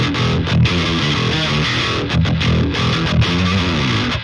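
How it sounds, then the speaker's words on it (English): Thick, fuzzy distorted guitar through the Ohmicide-S distortion plugin grinds out a heavy metal riff with short choppy breaks, loud and up front throughout. "and now the guitar tone sounds like this."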